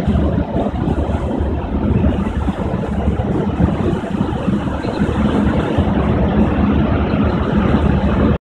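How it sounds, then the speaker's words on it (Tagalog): A ship at sea at night, with a steady roar of wind and waves washing against the hull, loud and continuous without any break. "Yung tunog ng alon sa barko,"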